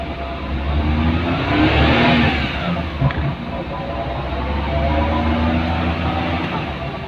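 A Maruti 800 car engine runs at a steady idle close by: a continuous, even mechanical drone with a low hum and no talking over it.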